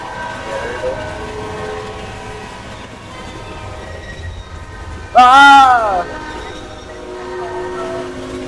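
In the video game Tunnel Train, a loud blaring train horn sounds once for about a second over a continuous rumble, while people talk through the clip.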